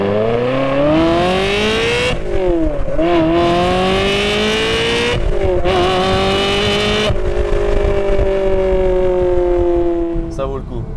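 Ferrari 360 Spider with a manual gearbox revving hard, its engine note climbing through several rising sweeps with brief gear-change dips, loud and close, with a sharp click near the end.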